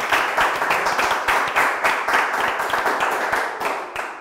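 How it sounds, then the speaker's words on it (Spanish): A studio audience claps on a Colombian talk show, the individual hand claps crisp and rhythmic, some rising above the group in a lively, moderately loud burst with no voices over it. "¡Aplauso! ¡Aplauso!"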